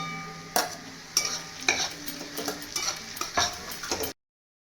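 Crushed garlic added to onions frying in oil for a mutton curry, a steady sizzle broken by several sharp stirring scrapes and clatters of a spoon against the pan, close and fairly loud, with no talking.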